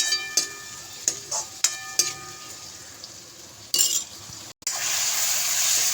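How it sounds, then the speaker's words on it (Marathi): Chana dal stirred in a pan with tomatoes in an Indian home kitchen, giving steady sizzling and frying with a few spoon clinks and scrapes against the pan, close and alone without talk. "चणा डाळ टाकून परतून घेऊया."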